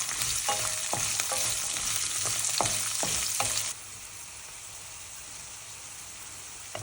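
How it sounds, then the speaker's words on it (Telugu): Green chillies and carrots sizzle in hot oil while a utensil stirs and scrapes the pan in several distinct strokes; the loud frying hiss suddenly drops to a quieter simmer partway through. "అవి వేగిన తర్వాత గ్రీన్ చిల్లీస్, క్యారెట్స్ వేసుకొని కలుపుకోవాలి."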